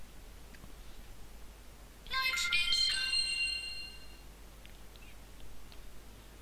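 A mobile phone ringtone bursts in with a short, bright electronic melody, loud and alone for about two seconds, against the quiet background of The Witcher 2 Assassins of Kings Enhanced Edition.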